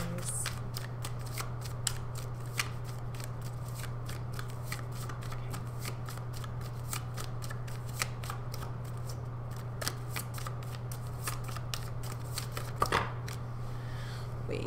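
Tarot cards shuffled continuously in a rapid riffling rhythm of crisp flicks, close and fairly quiet over a steady low hum, with no talking.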